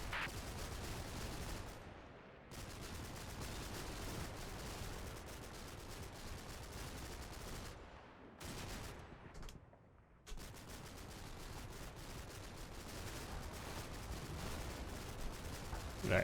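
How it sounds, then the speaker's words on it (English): Machine gun fire in the World War II strategy game Combat Mission: Battle for Normandy, dense continuous bursts and distant battlefield rumble with a few brief gaps, sustained throughout. "there's definitely some still machine gun fire coming in at our troops"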